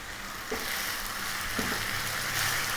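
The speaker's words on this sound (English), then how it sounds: "Next up, we're going to get our liver in there." Thin slices of lamb's liver fry in a pan with a steady, close hiss, and two brief louder spits or sizzling bursts break through as pieces land or shift in the hot fat.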